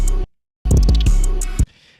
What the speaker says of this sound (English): And this is the sound of overlapping 808s.